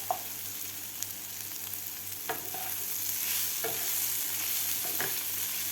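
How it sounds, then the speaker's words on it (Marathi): Onion and tomato fry in a pan with a steady, soft sizzle, broken by a few sharp scrapes and clicks from stirring; the sound is close and quiet, with no talking. "आपल्याला आणखीन दोन मिनटं कांदा आणि टोमॅटो फ्राय करून घ्यायचा आहे"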